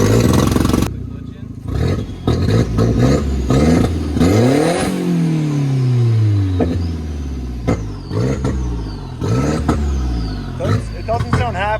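A car engine is pushed to full throttle, revving up in rising and falling sweeps with rough, uneven idle dips between bursts, loud and close, with voices talking over it.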